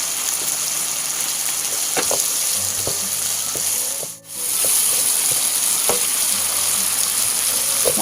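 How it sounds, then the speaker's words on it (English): Diced onion is stir-fried in a pan with a loud, continuous sizzle, punctuated by scattered clicks of a spatula against the pan and a brief drop in sound midway. "Now we add in the diced onion. Stir fry until the onion is tender."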